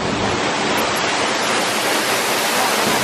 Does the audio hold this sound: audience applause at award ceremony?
no